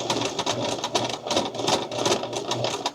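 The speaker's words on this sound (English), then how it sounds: "So we're gonna top stitch this." A sewing machine topstitching patchwork pantaloons, a continuous fast mechanical chatter with steady pulsing rhythm, close and fairly loud, with no voices.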